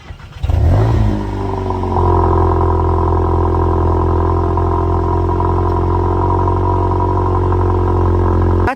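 A modified Volkswagen MK8 GTI exhaust starts up with a sharp rev, then settles into a loud, steady, droning idle close by, carrying a deep toned rumble with no talking.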